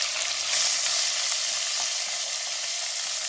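Onion, salt and garlic frying in a pan give a loud, continuous bright sizzle, steady and unbroken, with no voices.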